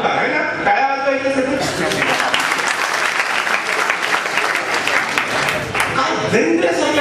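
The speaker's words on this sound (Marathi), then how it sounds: "टाळ्या वाजवायच्या" An audience claps together in a dense, loud burst of applause that starts abruptly, holds steady for several seconds and then fades, with a voice heard before and after it.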